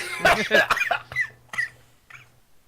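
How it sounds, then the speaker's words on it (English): Several sharp coughs in quick succession, close and loud, trailing off into a couple of softer hacking coughs. "I'm the one who coughs here, sir."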